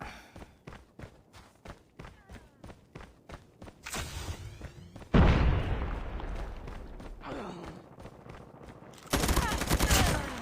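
Video game gunfire: a rapid run of evenly spaced single shots, then loud sustained bursts of automatic fire with dense crackling, close and loud, with no talking over it.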